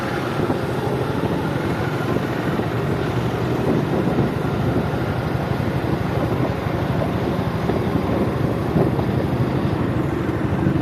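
Riding a motorbike across a bridge, a steady, loud rush of wind buffeting the microphone over a low engine rumble, constant throughout with no speech.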